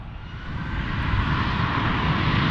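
A United Boeing 737 airliner's jet engines roar on takeoff at San Francisco airport, a loud continuous broadband rumble that swells slightly and holds steady throughout.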